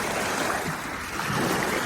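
Steady rushing water with waves rolling in, a dense, even wash of sound that fills the whole stretch with no voices.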